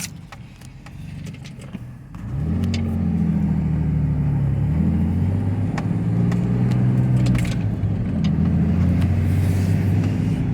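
An Audi S5 pulls away and drives, its engine rising and settling through gear changes with a steady low rumble from inside the car, after a few faint clicks at the start.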